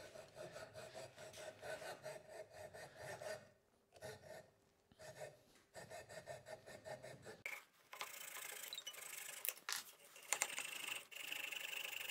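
Pull-stroke hand saw cutting wood while building a small hand-tool workbench, steady rhythmic rasping strokes close by with short pauses, then a brighter, faster scratching run toward the end.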